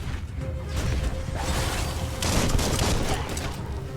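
Repeated heavy banging and crashing as a bomber creature rams a door in the video game Biomutant, a dense run of thuds and clatter with a louder burst near the end, no talk.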